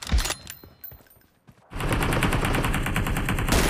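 A multiplayer video game plays a short sparse burst of gunfire, then a dense, loud stretch of rapid automatic fire that continues to the end.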